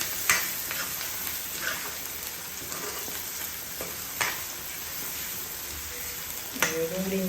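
Chopped onion sizzles in hot groundnut oil for pav bhaji, a steady close frying hiss broken by a few sharp clinks and scrapes of stirring, with no talk.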